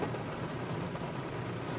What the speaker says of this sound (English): So I guess it's not raining there where the rainbow is, but it's raining here.